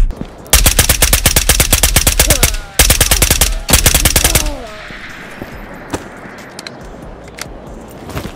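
Suppressed automatic gunfire in the video game Ghosts of Tabor: three loud, rapid bursts of evenly spaced shots with short gaps between them, then a quieter stretch of scattered faint clicks and ambient noise.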